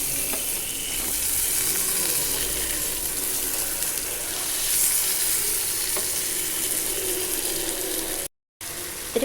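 Fish frying in a pan for a Tamil fish fry (meen varuval), a steady close sizzle with soft stirring and scraping as the pieces are turned to cook the other side, with no talk.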